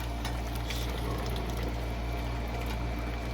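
Homemade Alfredo sauce pours into a pan on a switched-off stove, making a steady liquid rushing sound over a low constant hum, with no voices.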